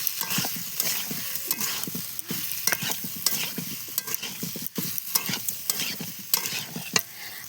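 Young jackfruit is stir-fried in a pan, loud repeated scraping and clattering of a spatula over a continuous oily sizzle, busy and close with no voices.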